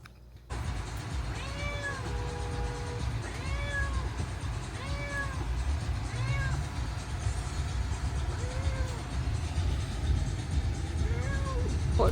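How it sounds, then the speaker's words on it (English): Cat named Kaia meowing repeatedly in a car on the way to the vet, about a dozen plaintive rising-falling meows spaced a second or so apart over a low steady road and engine rumble. "you could probably hear her. She's a very, very vocal kitty cat."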